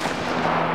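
A single gunshot in the video game This War of Mine lands as a dense, booming blast that fills the moment with a rough, sustained rumble and no trailing voices.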